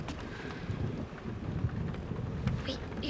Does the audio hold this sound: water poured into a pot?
no